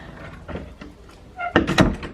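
A door is pushed shut in a chilly snowy Cotswolds house, with a few soft knocks and thumps first, then a louder latching clunk and rattle near the end, close by.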